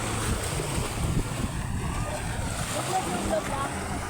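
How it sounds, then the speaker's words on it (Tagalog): Strong wind roars across the microphone alongside the wash of surf, with faint voices in the background. "Malakas ang hangin, guys."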